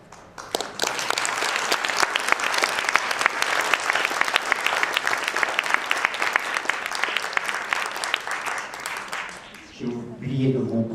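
An audience claps after a talk about a feature film, with sustained close, dense applause and sharp individual claps standing out. It fades briefly near the end, and then a voice starts speaking.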